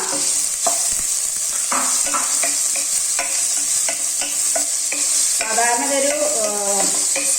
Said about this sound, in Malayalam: ഓയിൽ ഒന്ന് ചൂടാവുന്ന സമയത്ത് നമുക്ക് രണ്ട് സവാള മീഡിയം സൈസ് സവാള ഇട്ടിട്ട് ജസ്റ്റ് ഒന്ന് വാടി വേണ്ടു